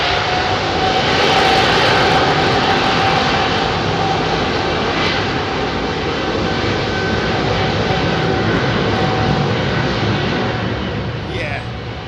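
Airliners, including Airbus A380s, take off at London Heathrow with a loud, sustained jet roar that holds steady for the whole stretch and eases slightly near the end.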